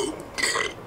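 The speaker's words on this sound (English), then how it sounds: "Now, go and practice your burping alphabet." A cartoonish game burp from The Whispered World, one short rumbling belch of under a second that swells midway, heard alone at moderate loudness.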